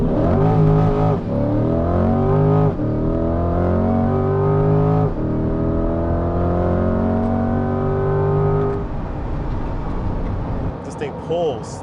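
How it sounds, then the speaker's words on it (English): A Corvette launches from 0 to 60 in performance mode, its engine climbing loudly through several gears with sharp shift breaks, then easing off near the end, while someone talks over it. "I'm gonna accelerate 0 to 60 here"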